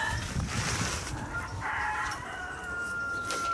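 Hens cluck and call softly in the background on an allotment, with a rooster-like crow breaking through amid outdoor ambient noise.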